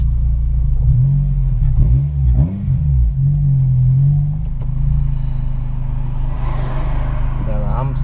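Inside a Honda Civic EP3 Type R on Eibach lowering springs, the engine rumbles and revs as the car sets off, with a steady low cabin drone and occasional bumps.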